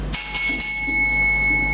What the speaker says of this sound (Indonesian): Nanti ketika lonceng berbunyi